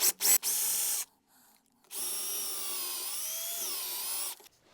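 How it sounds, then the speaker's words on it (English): A power drill spins a 3/4-inch Forstner bit into a plywood stair stringer, with two short bursts of high whining motor and then a longer steady run of a few seconds. "So I'll just take my Forstner bit, 3/4 Forstner bit,"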